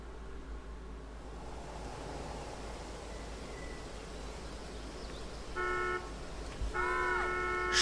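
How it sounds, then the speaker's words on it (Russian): Car horns honk in the video game Life is Strange 2, two clear sustained toots in the latter half, over a quiet ambient wash that sounds like distant surf. "мы слышим сигналы автомобиля"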